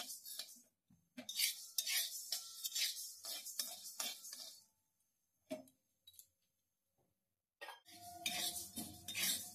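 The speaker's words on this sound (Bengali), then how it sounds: "ডালগুলোকেও আমি একটু ভেজে নিচ্ছি।" Utensil scraping and clinking against a pan as lentils are fried and stirred, in quick irregular bursts, with short pauses and a louder stretch of stirring at the end.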